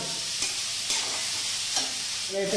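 Onions sizzle and crackle steadily in a hot pan, with a few louder scraping stirs cutting through the frying hiss.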